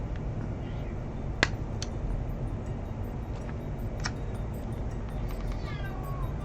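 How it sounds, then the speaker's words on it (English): A cat in a video game gives a few short meows, including a rising-and-falling call near the end, over a constant hissy background noise. "This cat is going wild."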